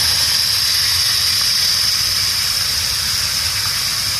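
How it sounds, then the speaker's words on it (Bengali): Water pours into a hot pan of spiced drumstick (sajne data) chochchori curry, giving a steady, close hiss and gush that holds evenly throughout. "এখন আমি জলটা দিয়ে দেবো।"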